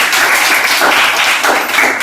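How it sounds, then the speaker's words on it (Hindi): Audience of schoolchildren clapping loudly and continuously for a student teacher named Krishna, a dense burst of applause that fills the whole moment. "आज इनके लिए एक बार और ताली बजाई जाए।"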